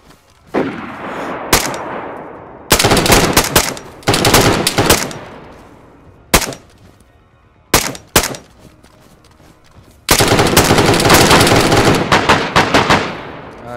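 Gunfire in DayZ: loud, close automatic bursts and single sharp shots, separated by brief lulls. A long final volley rattles on for several seconds.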